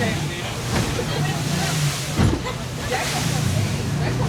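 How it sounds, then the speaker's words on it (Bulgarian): Rough, stormy sea around a small boat off Phuket, with broad wave wash and splashing water and wind noise, plus a brief louder surge near the middle; steady and fairly close throughout. "Супер е бурно морето. Постоянно влиза вода в лодката."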